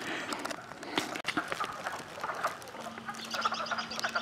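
Mating frogs at a backyard pond call in a dense, continuous chorus of short croaks and chirps, close and lively, with a low steady hum entering partway through.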